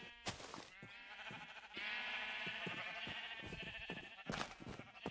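Several sheep in a video game bleat in overlapping, wavering calls, loud and close, with brief clicks between them and no speech.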